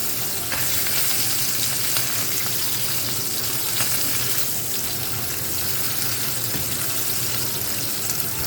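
A beef burger patty fries in an oily pan, a dense, continuous sizzle and crackle close by, with no talk.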